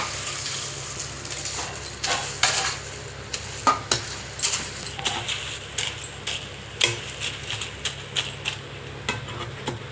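Sweet corn for a snack mixture fries in hot oil, a soft steady sizzle broken by repeated crisp ticks and scraping stirs, fairly close and quiet.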